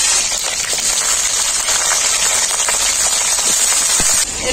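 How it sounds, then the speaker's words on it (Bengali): Cauliflower sizzles in very hot mustard oil in a wok, a loud continuous bright hiss and crackle of frying that holds steady throughout, with small pops scattered across it. "তেল খুব ভালোভাবে গরম হয়ে গেছে। প্রথমে আমি ফুলকপিটা ভেজে নেব।"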